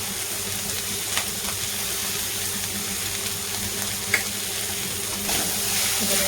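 Vegetables fry in a pan with a steady, even sizzle that runs throughout, broken by a couple of light clinks from the utensil.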